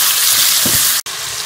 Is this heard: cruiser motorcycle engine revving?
no